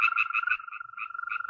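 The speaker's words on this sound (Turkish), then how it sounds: "Ulan amma çok kurbağa var burada be." Frogs croak beside a stream in a rapid, steady chorus of pulsing calls that continues throughout, close and clear with no voices.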